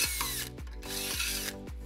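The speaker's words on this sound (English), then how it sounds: "and then we'll drill our second hole." A power drill bores a hole while a Blue Ox baseplate is fitted to a 2013 Fiat 500, whining up to speed, cutting briefly, then spinning down in three close bursts.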